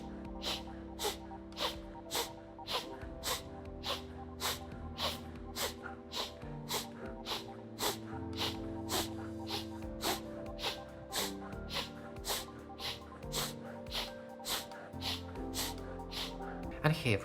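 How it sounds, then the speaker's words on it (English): Sharp, rhythmic nasal inhalations from Strelnikova breathing exercises, a steady series of short forceful sniffs about twice per second, close and distinct over a sustained musical backing. "as I do Strelnikova breathing exercises, my voice changes"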